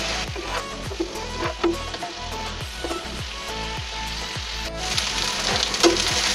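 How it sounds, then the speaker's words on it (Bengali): Fried papaya and potato pieces sizzle in hot oil with spices in a kadai, a close, continuous crackling fry broken by rhythmic scraping and stirring strokes of a spatula. "এখন আমরা এই যে ভাজা পেঁপে আর আলু দিয়ে দেবো। এগুলি মশলার সাথে একটু মাখা মাখা হবে"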